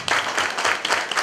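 Audience applause for a carol performance, a short burst of brisk, dense clapping with an uneven pulse, fairly loud and close.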